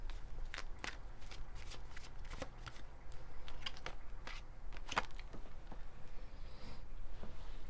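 Tarot cards being shuffled and drawn, giving a run of soft, rapid papery riffles and slaps at close range over a steady low hum, with a few sharper flicks as cards are pulled.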